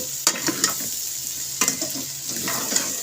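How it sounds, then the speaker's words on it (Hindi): Mutton with onions and green chillies frying in a pan for bitter gourd gosht, a steady close sizzle broken by several sharp stirring scrapes and clatters, with no voices. "5 मिनट फ्राई करने के बाद इसमें हम प्याज और जो सब्ज़ मिर्च है वो इसमें डाल देंगे।"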